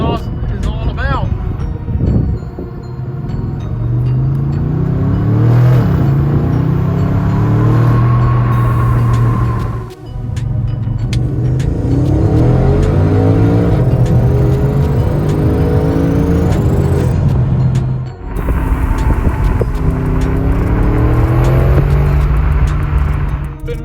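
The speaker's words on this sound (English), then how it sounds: "Give it a few little revs." An Audi S6 with a custom muffler delete and tuned exhaust revs in several bursts, loud and close, with rising and falling engine pitch and brief pauses between revs, while someone talks over it.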